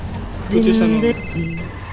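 A phone rings in GTA 5 with a steady electronic tone that holds about half a second, pauses briefly and sounds again, close and loud.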